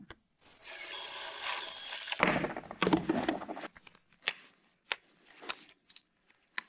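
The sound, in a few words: power drill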